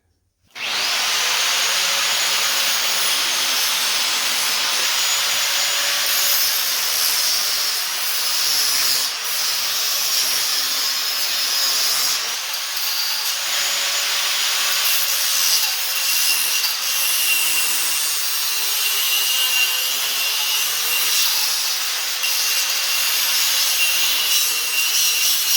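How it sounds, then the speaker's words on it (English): An angle grinder cuts steadily through metal swing arm reinforcements on a car, making a loud, continuous abrasive roar that runs for about 25 seconds without pause. No one speaks. "I'm going to take an angle grinder and I'm going to clearance these reinforcements out of the way."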